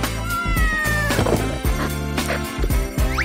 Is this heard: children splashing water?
no